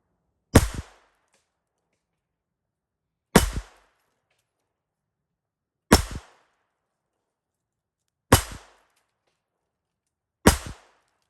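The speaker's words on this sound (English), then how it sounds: "First, we're going to fire 5 rounds out of the 32 ACP and watch them hit the target here." Five loud, sharp pistol shots from a .32 ACP handgun ring out one at a time, evenly spaced about two and a half seconds apart, each a crisp crack with a brief decay, with silence between.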